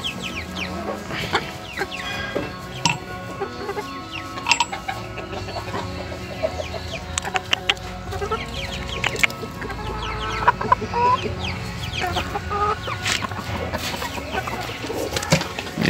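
Hens, including Silkie chickens, cluck in short, scattered bursts over steady outdoor background noise, with occasional sharper calls from nearby birds.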